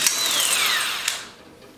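A power metal nibbler bites through 0.175 stainless steel sheet with a loud, high whining screech whose pitch slowly falls, then fades out over under two seconds.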